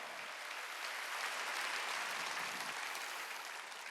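Congregation clapping together during a Korean church Sunday worship service, a steady wash of many hands sustained evenly throughout at moderate distance, with no talk over it.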